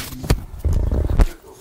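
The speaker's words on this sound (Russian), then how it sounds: "собачьи бои." Two Chihuahuas play-fighting give rough growling snarls in short, close bursts, with a brief sharp yelp between them.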